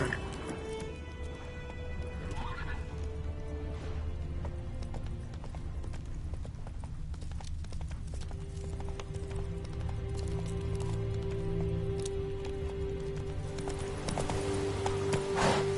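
Geralt's horse Roach gallops in The Witcher 3: Wild Hunt, with rapid, steady hoofbeats over a dense rumble of ambient game sound and a faint tonal drone throughout.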